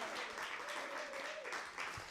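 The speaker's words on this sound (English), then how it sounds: "Round of applause, Seni Seneviratne." Live audience applauding poet Seni Seneviratne at an evening reading, a steady wash of clapping filling the room for about two seconds, with a faint voice or tone threading through the middle.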